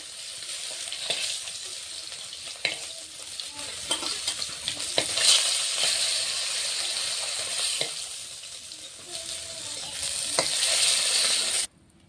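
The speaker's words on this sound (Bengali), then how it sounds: "লাল লাল করে ভেজে নিচ্ছি।" Fish fries in hot oil in a pan, a steady close crackling sizzle with occasional clicks and scrapes of stirring, continuing for several seconds before stopping abruptly.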